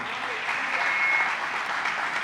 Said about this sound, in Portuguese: Você podia aplaudi-lo.